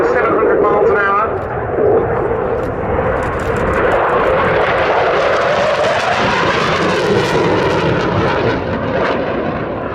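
A Eurofighter Typhoon jet makes a high-speed pass at the Duxford airshow, its engine roar loud and sustained, swelling and shifting in pitch as it sweeps by, with a commentator talking over it.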